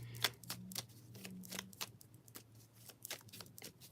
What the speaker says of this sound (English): I'll shuffle a few times